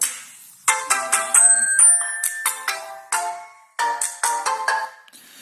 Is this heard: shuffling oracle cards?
no